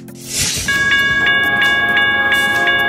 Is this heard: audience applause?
no